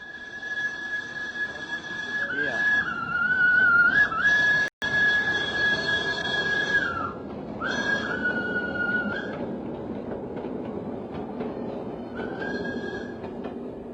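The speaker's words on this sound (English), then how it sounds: "the steam tram bustled through this little Holland in the tropics" A steam tram runs through the streets of colonial Soerabaja with a low rolling rumble beneath long, steady high-pitched squealing tones that waver and fade in and out, briefly cut by a sharp break midway.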